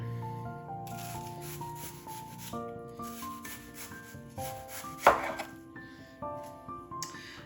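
A knife shaves thin slices of red onion for a marinated cucumber salad, giving quick soft strokes against a board with one sharper tap, over a faint background hum and no talk.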